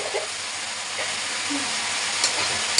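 Curry cooking in a pan gives off a steady, close sizzling hiss with occasional stirring noises, and a voice talks faintly over it now and then.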